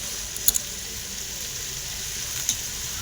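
Spices fry with onion leaves in a pan for a fish curry, a constant close sizzle broken by a few sharp crackles or stirring clicks.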